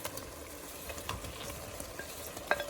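Fried paneer cubes stirred into a sizzling pan, a soft continuous sizzle with scattered scraping and clinking stir sounds and a sharp utensil tap near the end.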